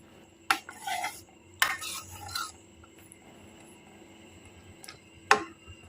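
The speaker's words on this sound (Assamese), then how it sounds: "আৰু এতিয়া ভালকৈ এবাৰ লৰাই দিম।" Matar ghugni, a pea curry, is stirred in a pot with a metal spoon, giving a few short scraping and clinking strokes separated by quiet pauses, close and fairly soft.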